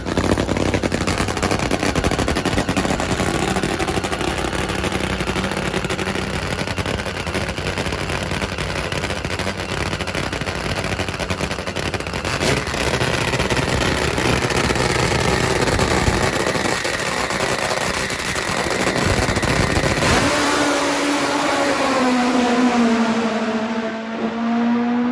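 A top fuel drag motorcycle roars through a run with a harsh, continuous, machine-gun-like blat lasting about twenty seconds, then drops away to a lower engine whine that slides down in pitch.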